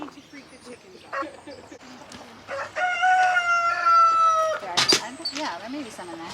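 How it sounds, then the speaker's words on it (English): A rooster crows loudly in the middle, with hens clucking around it and someone talking over the barnyard sounds. "Oh, Poppy, you don't need to freak the chickens out."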